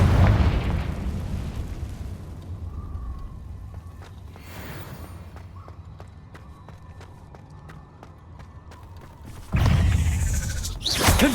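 A Confringo fire spell explodes in Hogwarts Legacy with a loud, broad booming burst at the start, sparse clicks and a faint whoosh through a quieter middle, then a second heavy blast near the end.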